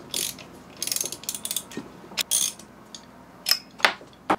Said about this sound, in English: Now you can loosen this bolt.